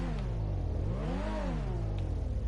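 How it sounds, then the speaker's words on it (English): A car engine in GTA V revs up and back down before a time-trial launch, one smooth rising and falling sweep over a steady idle, close and moderately loud with no voices. "Rev your engine, so not all the way."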